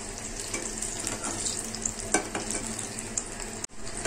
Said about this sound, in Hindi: उलट पलट कर दोनों ओर से सेकेंगे और बीच बीच में घुमा देंगे